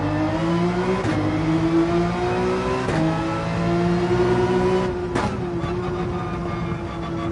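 A race car engine screams at full throttle around the Nürburgring in Gran Turismo 7, its pitch climbing through each gear, briefly dropping at shifts before winding up again, loud and continuous with no talking.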